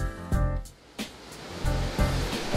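Nikobuchi waterfall on a river in Kochi, Japan, a steady broadband rush of falling water, loud and close, with a few brief knocks or thumps and no talk.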